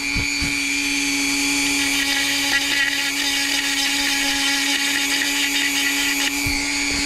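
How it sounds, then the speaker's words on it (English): A Dremel rotary tool grinds down a sharp metal edge while fitting a radiator in a 1972 Pinto Runabout, a steady high whine running continuously at close range with slight load changes. "So I'm going to grind it down with my Dremel."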